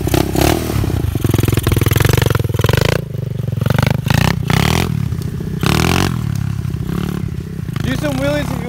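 A pit bike fitted with a new exhaust revs and rides around a yard, its engine rising and falling in loud, rasping bursts with some clatter, while voices talk over it.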